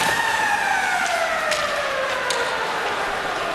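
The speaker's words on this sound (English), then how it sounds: "The siren sounding here." A loud, steady ice hockey arena siren wails continuously with a slowly falling pitch, a few sharp knocks and crowd noise faintly underneath, at a Slovakia versus Canada junior game.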